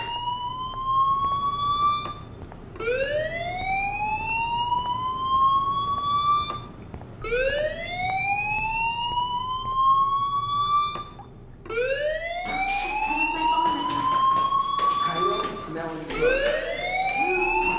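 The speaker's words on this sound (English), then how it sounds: "Hey, do you hear that fire alarm?" A fire alarm siren in the game Life is Strange wails in repeated rising sweeps, loud and steady, with a denser overlapping burst of tones near the end.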